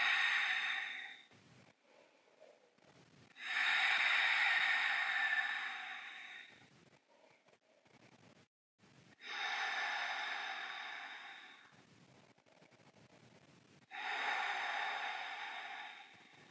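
Slow, deep breaths during a yoga stretch, drawn in long rushing bursts of about two seconds with quiet pauses between, close and fairly soft, with no talking.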